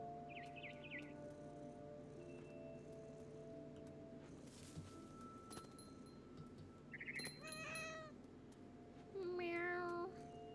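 Several short, high meows from a cat in the video game What Remains of Edith Finch sound at intervals over a quiet background with faint tones, the last one longer and louder.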